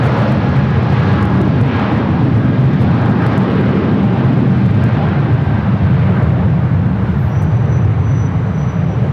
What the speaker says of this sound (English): Got that Cathay Pacific 777 rolling down at 25 right.